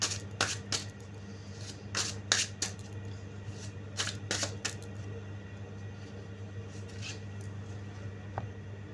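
Tarot cards riffle and slap in a quiet room as a clarifier is drawn, a cluster of crisp flicks early on, then sparse soft taps with a low steady hum beneath.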